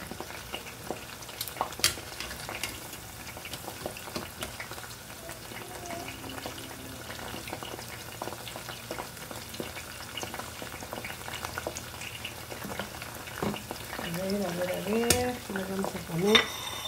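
Corn kernels fry in hot oil in a pan, a steady low sizzle and bubbling running throughout, with brief stirring clatter and louder spitting pops near the end.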